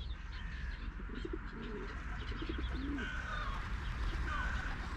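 A pigeon coos in low, repeated murmuring calls close by, with faint chirps from other birds and a soft outdoor background hum.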